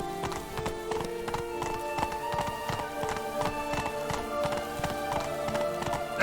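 Horse hooves gallop in a rapid, steady clip-clop rhythm in Witcher 3, loud and close, continuing without pause and with no talk over it.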